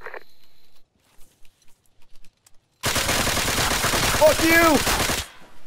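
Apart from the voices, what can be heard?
gunfire in the video game Arma 3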